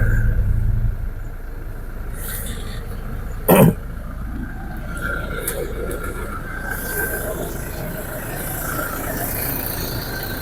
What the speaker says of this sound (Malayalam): അപ്പോൾ ഇനി നമുക്കിത് സ്റ്റാർട്ട് ചെയ്തിട്ട് ഇതിൻ്റെ സൗണ്ട് ഒന്ന് കേൾക്കാം.